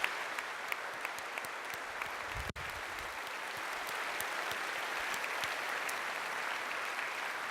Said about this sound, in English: let's all give them a tremendous round of applause